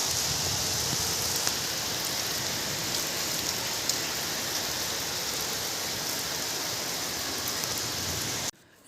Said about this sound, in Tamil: இப்படி தான் கொஞ்சம் நேரத்துக்கு முன்னாடி மழை அடித்து ஊற்றிருச்சிங்க